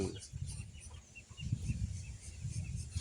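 Chickens clucking at a forest homestead, low soft bursts of fowl calls repeating faintly through the clip with quiet background ambience.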